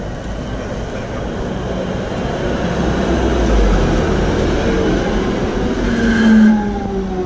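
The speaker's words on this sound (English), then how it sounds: "I'm heading out on the tram because it's quicker than walking." A tram rolls along at speed with a loud, steady rumble and rattle of wheels on track, swelling slightly before easing off near the end, with no voices.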